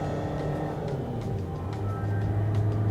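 Toyota Etios diesel engine droning inside the cabin while driving, a steady low hum and rumble that rises slightly toward the end, with no talking.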